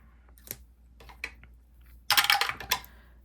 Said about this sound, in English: I am just rolling all 5 times with a D6 dice